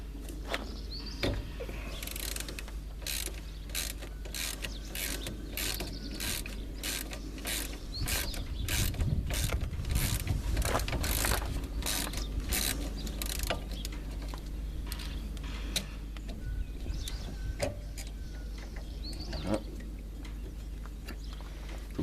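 A 13 mm ratchet wrench working on van brakes during a disc and pad change on a C25, J5 or Ducato, giving a long run of sharp, regular clicks close up over a low steady background hum, with no talking.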